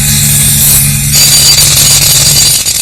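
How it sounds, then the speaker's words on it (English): A jackhammer breaking up pavement, loud and close, a harsh, steady mechanical roar with a low hum beneath it that continues for about three seconds without voices. "We've all seen the jackhammer in action, breaking up roads and pavements"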